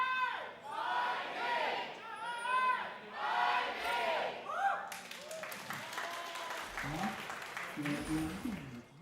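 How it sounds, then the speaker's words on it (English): A large esports arena crowd at a League of Legends LCP season finals match roars and applauds in a sustained wash of noise, loud and continuous, with a caster talking over it. "The crowd again, out in full force."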